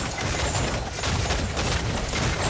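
Ship cannon fire in Assassin's Creed IV near a fort, a dense rapid volley of booming shots and blasts packed into a couple of seconds, loud and close.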